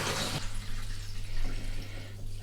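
A short gush of fresh water pours and splashes into a Thetford cassette toilet tank being rinsed, then settles into softer sloshing and trickling with a low hum underneath.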